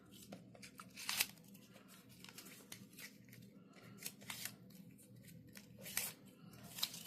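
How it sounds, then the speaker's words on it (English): Release paper is peeled off an adhesive card front during cardmaking, giving a series of quiet crackly tearing and crinkling bursts spread across a faint, otherwise still background. "Then you can pull your release paper off."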